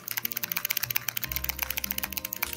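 A keychain fitted with a blue-switch keyboard keycap is pressed over and over, giving quick, crisp, close-up clicks in an uneven, rapid rhythm.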